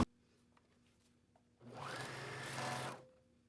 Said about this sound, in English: now that we've done that, we're going to sew across here.